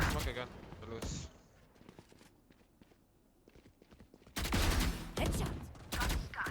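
Bursts of gunfire in the shooter game Valorant, a sharp volley early on, scattered quieter shots, then a loud sustained burst of rapid fire, with players talking over the action.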